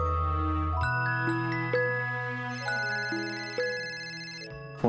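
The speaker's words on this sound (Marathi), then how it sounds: "फोन वाजता." A melodic phone ringtone chimes indoors, a clear sequence of bright bell-like tones stepping through a short tune, loud and close with no talking.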